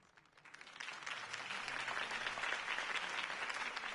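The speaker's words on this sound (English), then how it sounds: "If only Mr. Wayne, my campaign's largest backer, could have heard that applause" A crowd claps steadily in the Batman: The Telltale Series video game, the applause swelling in over the first second and holding as a dense, even patter to the end.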